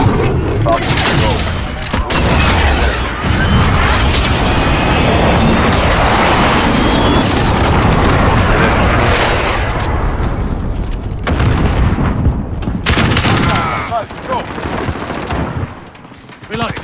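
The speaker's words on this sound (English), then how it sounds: "Enemy precision airstrike." An enemy precision airstrike in a Call of Duty Domination match on Suldal Harbor sets off loud, dense, rolling explosions and crackling blasts that continue almost nonstop, with sharp booms standing out near the end.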